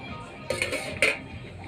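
A lid set onto a cooking pot of simmering potatoes and pumpkin stems for dal, making two brief metallic clinks about half a second apart, close and soft over quiet kitchen background.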